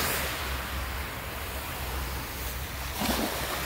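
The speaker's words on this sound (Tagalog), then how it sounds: "Dito tayo sa Paliro Beach" Surf washing ashore at Faliro Beach in Athens, Greece, a steady broadband rush of waves with a slightly louder swell near the end, no talking.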